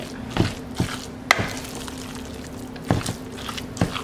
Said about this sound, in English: Then you're still gonna have to mix it around.